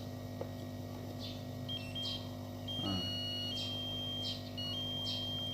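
A multimeter beeps faintly while testing a dead Advance active speaker, producing a few thin, high tones that step in pitch over a low hum.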